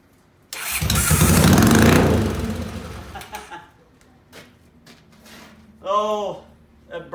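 A 1981 Honda GL500 motorcycle engine revs up hard to a loud roar, falls back to a rough idle with sputters, and a person speaks briefly near the end.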